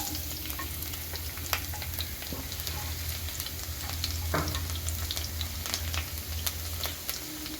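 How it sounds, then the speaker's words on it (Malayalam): Chopped garlic goes into a pan of frying chicken thoran, which keeps up a soft, continuous sizzle with scattered crackles and occasional stirring scrapes, close and fairly quiet, without any speech. "ഇനി നമുക്ക് അതിലോട്ട് 4 കഷ്ണം ചെറിയ വെളുത്തുള്ളി അരിഞ്ഞു വെച്ചേക്കുന്നത് ചേർത്ത് കൊടുക്കാം."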